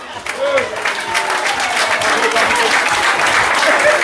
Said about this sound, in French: je vous invite de nouveau à applaudir cette équipe